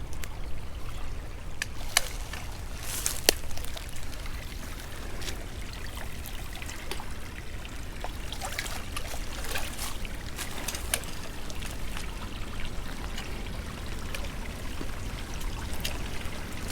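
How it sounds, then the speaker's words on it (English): Water runs steadily at a forest creek crossing in a pine wilderness in Indiana, a constant low wash with faint scattered splashes and ticks, fairly quiet with no voices. "So we've come to our first decent creek crossing"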